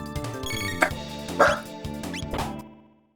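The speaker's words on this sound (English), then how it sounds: "Don't bark." Dog barking in the Chrono Trigger video game, a few sharp yips over game music, with a louder bark near the middle before the music fades out.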